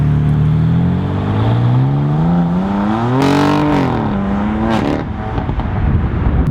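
BMW M4 Competition LCI twin-turbo engine revving hard with a raspy exhaust, pitch climbing steadily then surging, loud and close, with no talk over it.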